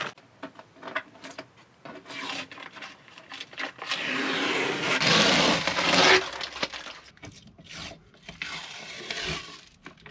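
Sticky material being pulled off in strips during the renovation of a 1980s motorhome: rough tearing and rasping peels come in bursts, with a louder, sustained ripping stretch in the middle before trailing off into shorter pulls.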